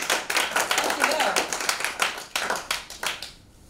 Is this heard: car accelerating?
no